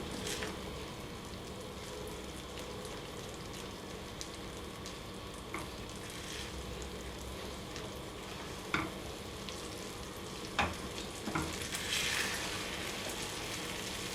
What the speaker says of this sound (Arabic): لازم بقى يغلي كده ويطلع بقاقير زي البشاميل كده